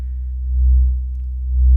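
A steady, loud low-pitched synthesizer sine tone hums on its own, swelling slightly in volume twice with no other sounds.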